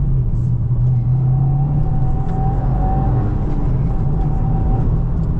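A 2025 Subaru WRX tS Spec B with a manual gearbox cruising, its engine giving a steady, fairly loud low drone and whir inside the cabin, with no talk.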